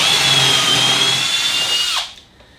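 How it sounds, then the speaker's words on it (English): A Kreg 720 pocket-hole jig drill bores pocket holes in a wooden base, giving a loud, close, high whine that holds steady for two seconds and then spins down abruptly. "I'm drilling these pocket holes on the base"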